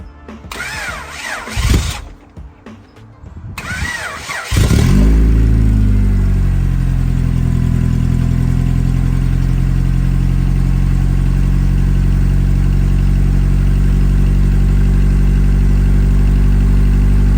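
A Honda engine with a newly replaced distributor cranks a few times, catches, then settles into a loud, steady idle that drones on evenly for the rest of the clip.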